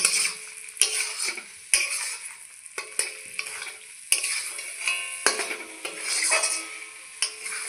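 A utensil stirs par-boiled potatoes with spices in a pan for chicken biryani, giving repeated scraping and clinking strokes over a soft sizzle, close and fairly quiet.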